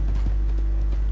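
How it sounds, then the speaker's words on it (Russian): An Arabian horse ridden in a video game clip-clops along, a quick even patter of hoofbeats over a constant low game hum, close and clear with no talk. "Еду, еду. А твоя лошадь называется Кошм, да?"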